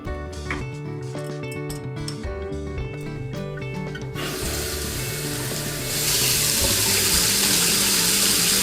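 Water runs from a newly installed bathroom faucet, hot on one side and cold on the other. Light clinks and tones come first, then a steady rushing stream takes over and grows fuller and louder toward the end, with no voices.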